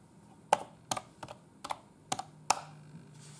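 Typing on a computer keyboard: a handful of sharp, irregular key clicks, close and crisp against a quiet room.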